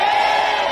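A crowd at an election rally for Lee Jae-myung, three days before a general election, roaring and shouting together in a loud, sustained mass of cheering voices that stays strong throughout.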